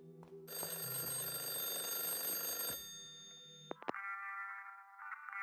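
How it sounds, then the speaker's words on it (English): Ringing telephone in the video game Lorelei and the Laser Eyes: a bright, sustained electronic ring that cuts off abruptly, followed by a couple of clicks and a steadier, softer tone, with no voices. "The phone is ringing."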